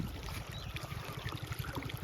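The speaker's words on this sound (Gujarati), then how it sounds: "આપણે હવે ચાલુ કરી દીધું છે પાણી ખેતરમાં" Irrigation water flowing into an ajwain field, a steady low rushing and gurgling churn of moving water, continuous and fairly close with no talk.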